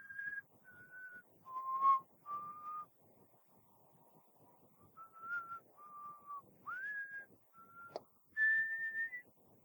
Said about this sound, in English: You keep hearing the whistling.